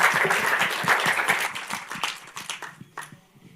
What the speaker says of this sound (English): please let's thank Anjay again with a warm round of applause